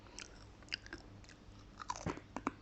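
Quiet, close crunching and chewing of a crunchy mushroom snack, several crisp bites in uneven succession.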